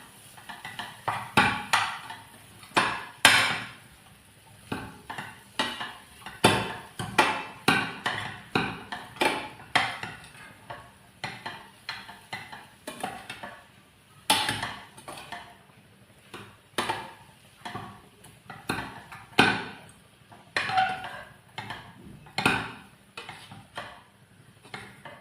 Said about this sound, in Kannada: ಈಗ ನಾನು ಬೇಯಿಸಿದ ಬಟಾಟೆ ಹಾಕ್ತೇನೆ. ಒಳ್ಳೆ ಮಿಕ್ಸ್ ಮಾಡುವ